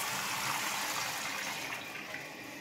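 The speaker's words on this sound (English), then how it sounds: "I'm gonna open the water up and we'll test it out." Water rushes steadily into a toilet tank through a newly attached hose, a loud, continuous hiss and gush heard close by that eases slightly toward the end.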